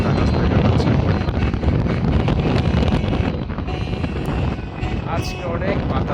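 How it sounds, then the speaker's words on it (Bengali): Strong gusting wind batters the microphone on the shore of the Bay of Bengal, a loud, continuous roar that dips briefly before surging again, with a voice partly buried beneath it. "আজকে অনেক বাতাস, বলতে গেলে একেবারে দাঁড়ানো যাচ্ছে না এখানে, বাতাসের কারণে"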